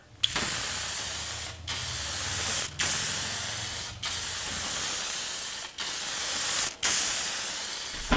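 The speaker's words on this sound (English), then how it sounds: "now I'm ready to spray it with a few thin coats of lacquer" A loud, steady spray of lacquer onto a curly maple wooden frame hisses in bursts of about a second or more, separated by short pauses, repeated six times.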